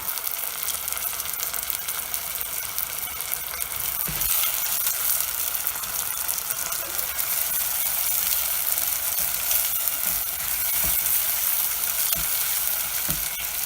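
Ginger, garlic and onion pastes with bay leaf, cinnamon and cardamom fry with onions in oil over high heat, giving a dense, loud, continuous sizzle with occasional utensil clinks and scrapes.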